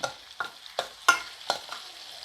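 Short bursts of crackling sizzle from frying in oil, about six pulses in quick succession, close and fairly quiet with no talking.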